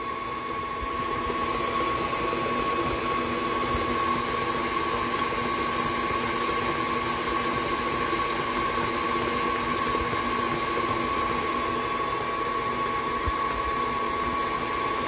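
A stand mixer with a paddle attachment runs at medium speed through eggnog cookie dough, a constant close motor whine with a steady hum and slight rhythmic churning, unbroken throughout.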